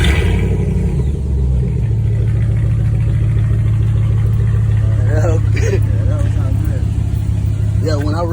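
A Jeep engine fitted with a new exhaust idles with a deep, steady rumble, then is revved a few times near the end, the pitch rising and falling loudly over continuous close engine noise.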